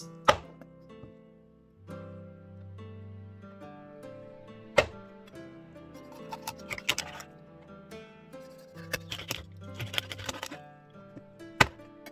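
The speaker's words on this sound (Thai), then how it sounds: "ดิฉันจะหั่นปลาเป็น 8 ชิ้นค่ะ cut the fish into 8 pieces" A knife chops rainbow trout into pieces on a cutting board, single sharp thunks spaced irregularly, with quieter clicks and kitchen clatter in between.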